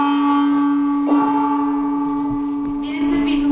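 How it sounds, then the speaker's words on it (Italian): A gong resonates during a Japanese tea ceremony, its sustained metallic hum lingering throughout with a fresh strike swelling partway through, loud and close without voices. "il gong rintocca."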